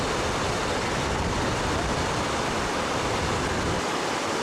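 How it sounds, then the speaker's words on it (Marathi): Water gushes with force out of a dam outlet tub, making a loud, continuous roaring rush that holds steady the whole time with no breaks. "इकडनं अजूनही थोडं फोर्समध्ये निघतंय पाणी टबमधलं"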